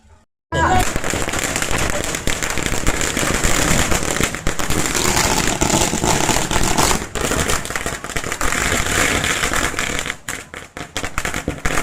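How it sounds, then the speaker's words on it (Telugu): Firecrackers bursting during the Dasara festival, a dense, continuous barrage of rapid cracks and pops that is loud and close throughout, with a few louder bangs. "అసలైన పండుగ క్రాకర్స్ తెలిసిందే కదా మనోళ్ళు అయితే స్టార్ట్ చేసారు"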